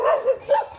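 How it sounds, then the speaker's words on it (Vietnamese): A dog in Ben Tre, Vietnam, barks in short yelping bursts, three quick close barks with an odd, whiny tone. "Chó Bến Tre nó sủa rất là lạ luôn."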